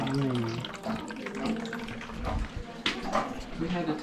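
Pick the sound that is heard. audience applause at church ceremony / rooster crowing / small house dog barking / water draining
water draining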